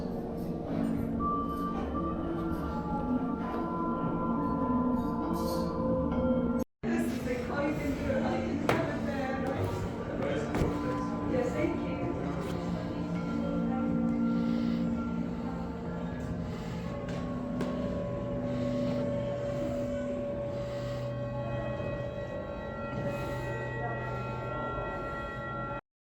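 A continuous composition of Tibetan-style singing bowls processed by computer and heard in a London lighthouse, layered sustained metallic tones and shimmering overlapping bell-like resonances ringing steadily, with a brief dropout early on.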